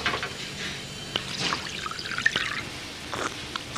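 Volvic mineral water running from a water fountain dispenser into a glass, a continuous close trickle with small drips and splashes, heard alone without talk.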